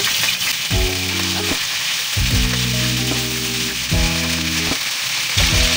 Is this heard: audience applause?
no